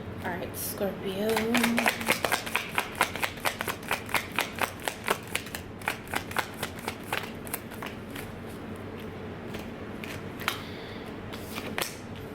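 Tarot cards shuffled close by, opening with a brief voice and then a steady series of sharp, evenly spaced card slaps and flicks that gradually thin out toward the end.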